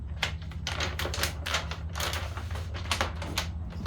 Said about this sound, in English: Start peeling that backing paper.